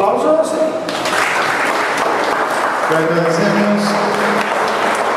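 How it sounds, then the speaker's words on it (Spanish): An audience at a lecture on colonial food applauds, a dense, steady wash of clapping hands sustained for several seconds, with a voice speaking partway through. "¿Aplausos?"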